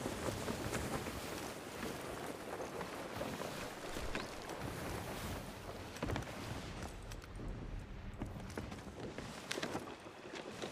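Sailing ship with its sails raised in the Sea of Thieves video game: a steady, full rush of water and wind noise runs for about ten seconds with no speech.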